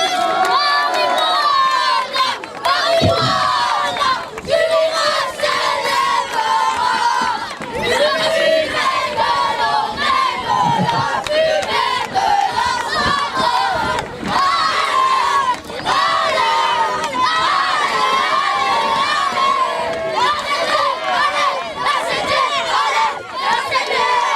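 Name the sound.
crowd cheering and applauding the Tricastin rugby team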